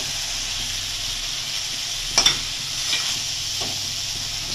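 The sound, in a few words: tengra fish frying in a pan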